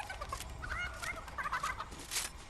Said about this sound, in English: Oh, that's the chicken.